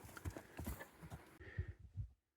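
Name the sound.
horse hooves walking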